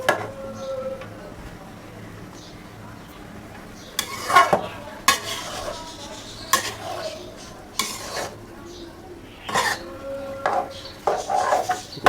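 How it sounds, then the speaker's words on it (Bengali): Cabbage with shrimp, green chilli and bay leaf is stirred in a pan over a low gas flame, with repeated sharp scrapes and clanks of the spatula against the metal above a soft sizzle, close by and in uneven bursts. "এখন এটা একটু নাড়াচাড়া করতে হবে"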